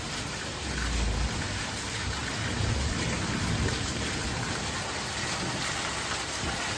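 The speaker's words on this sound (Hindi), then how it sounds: "बहुत तेज़ बारिश हो रही है।" Heavy rain pours down in a dense, continuous hiss, loud and unbroken, with water gushing underneath.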